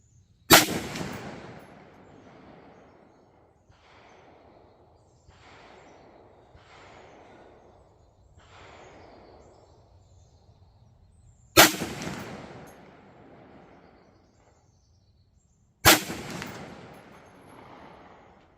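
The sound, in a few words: rifle shots from Bear Creek BCA 350 Legend, 180 grain rounds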